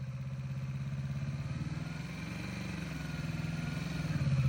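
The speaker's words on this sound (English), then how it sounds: "Keep it loaded. Listen to that throttle." A motorcycle engine held on steady throttle during a riding lesson, a loud, continuous low hum that swells slightly toward the end, heard close with no talk over it.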